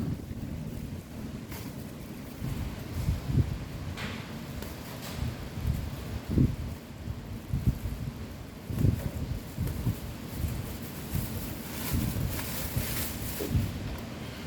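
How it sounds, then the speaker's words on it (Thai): Strong wind blowing outdoors, a steady loud rumbling buffet across the microphone with gusty swells throughout and no clear speech. "โอ้ลมแรงเลยเนาะ"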